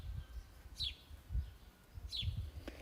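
Sparrows chirp outdoors in a garden with bees about, two short bright chirps spaced apart, fairly faint over a low rumbling background.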